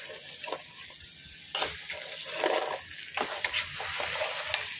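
Chili garlic mud crab stirred in a large pan, with a steady close sizzle of frying broken by several loud scraping stirs at uneven intervals.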